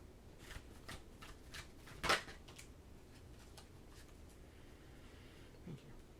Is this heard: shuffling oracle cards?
yes